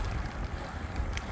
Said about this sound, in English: It's been a block headwind